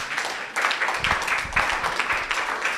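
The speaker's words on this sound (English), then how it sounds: "I was expecting an applause from you." An audience at a public forum in Accra applauds with dense, overlapping clapping that swells and continues steadily, moderately loud.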